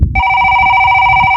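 A telephone rings for an incoming call with a loud, steady electronic tone, close and sustained after a brief rustle, with no voices.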